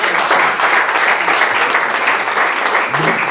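A church congregation applauds together, steady dense clapping that fills the room throughout with a few voices mixed in.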